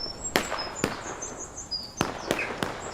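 Gunfire in a multiplayer shooter game, a handful of sharp, loud cracks spaced irregularly over a few seconds, standing alone without talk.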